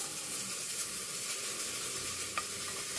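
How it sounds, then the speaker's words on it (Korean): Carrots stir-frying in a little cooking oil over low heat, a quiet even sizzle with faint hiss, close by, and one small clink near the end; no voices. "당근을 꾹꾹 눌러서 한 컵을 넣어줄게요. 불을 약불로 해서 볶아주세요."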